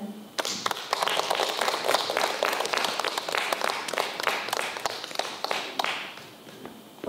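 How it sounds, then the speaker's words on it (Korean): Applause from the audience at a poetry recital in Chuncheon welcomes baritone and musical actor Park Chang-min, a steady mix of many hands with a few loud individual claps and thumps, fairly close and without speech. "그럼 여러분의 뜨거운 박수로 모시겠습니다."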